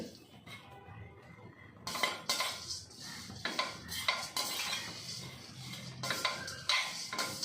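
Ingredients for angaya podi are dry-roasted in a pan, with a spoon scraping and clinking against the metal in quick, irregular stirring strokes, close and moderately loud, with no talk.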